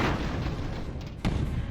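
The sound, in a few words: bombs exploding in video game Airships Conquer the Skies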